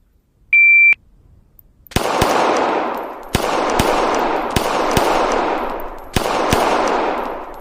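In the ACE VR shooting game, a short electronic beep sounds, then a series of sharp, loud gunshots fires at fairly even intervals, each ringing out briefly before the next, with no talking.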